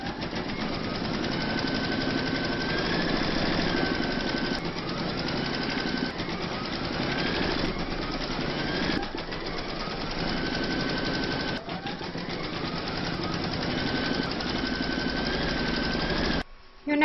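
Computerized embroidery sewing machine stitching fabric and batting held in a hoop, a steady fast mechanical chatter running continuously and close by, with no speech.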